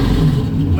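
The engine of a drift truck that had been running poorly rumbles in a low, loud rev right after carburetor adjustments, heard close up in a short burst.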